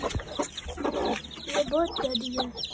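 A hen clucks in short bursts close by, with other fowl sounds and a person talking over it.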